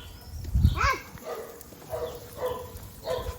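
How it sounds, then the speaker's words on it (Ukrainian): Several dogs barking in short yips and woofs in a private residential neighborhood, moderately close outdoors, with scattered barks across the whole stretch and light ambient noise. "ж песики гавкають"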